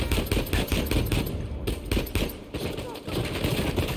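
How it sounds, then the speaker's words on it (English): Repeated pistol shots in the video game Uncharted 4, crisp reports firing in a steady rapid rhythm at close range, with a reload in the mix and a voice talking underneath. "the crisp weapon sounds and the reload"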